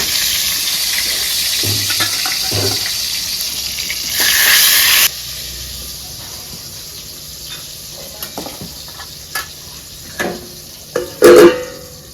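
Eggplant slices fry in hot oil in a Bengali home kitchen, giving a continuous hiss and sizzle with a louder steamy burst midway, followed by scattered clinks and scrapes.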